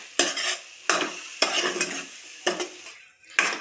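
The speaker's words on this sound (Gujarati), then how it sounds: "આપણે ધીમો ગેસ રાખીને જ બધું મિક્સ કરવાનું છે." Mango ladoo mixture being stirred in a pan over a low flame, with five distinct scraping strokes at a steady rhythm, close and fairly loud.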